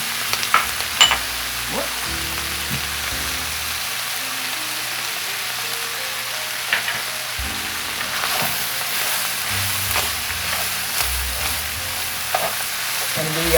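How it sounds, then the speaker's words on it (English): Meat and vegetables sizzle steadily in a pan for a low-carb Salisbury steak casserole, coated with arrowroot powder, herbs and spices, with repeated scraping strokes of a utensil stirring through the constant frying hiss. "now I'm going to go ahead and add our arrowroot powder and our herbs and spices and kind of coat our meat"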